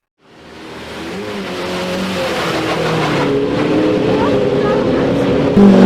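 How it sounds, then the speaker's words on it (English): A 650 hp Judd V8 Mercedes-Benz hillclimb race car builds from silence into a loud, sustained, rising engine howl as it accelerates up the course, with a voice talking over it. "One of the European Hillclimb cars I love to watch and hear is this 650 brake horsepower Judd V8 Mercedes-Benz."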